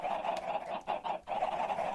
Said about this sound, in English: 100 chickens in there laying eggs constantly.